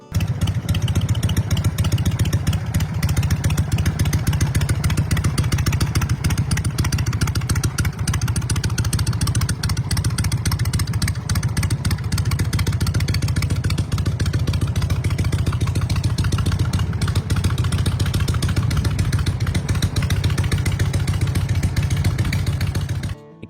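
A 2002 Harley-Davidson Softail Deuce cruiser runs with a loud, steady, lumpy V-twin rumble, close and continuous throughout, with no one talking.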